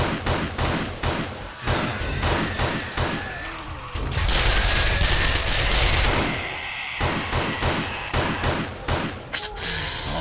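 Rapid bursts of gunfire from a 7 Days to Die horde battle in Alpha 18, with repeated loud shots and thumps that run into a dense volley mid-clip, then go back to scattered shots.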